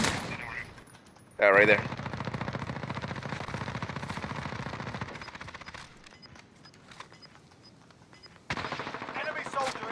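Sustained automatic gunfire rattles in a Warzone quads match at a military base, in long dense bursts with short pauses, while teammates talk over the shooting.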